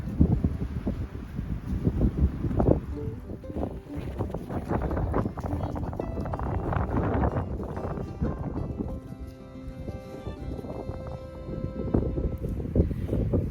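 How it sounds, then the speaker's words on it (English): Gusty wind buffets the microphone continuously, a loud rumbling roar with uneven surges and no speech. "It's windy"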